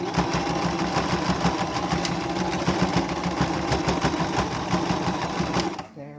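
Close, loud sewing machine runs steadily while stitching the final pleat of a homemade fabric face mask, then stops abruptly at the end.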